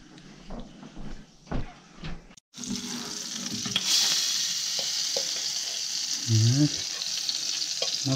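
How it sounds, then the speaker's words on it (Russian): Constant sizzling and crackling fill the clip after some clanks and handling noises, onions frying in butter in a very hot pan, with a few utensil scrapes. "Лук жарим чисто на сливочном"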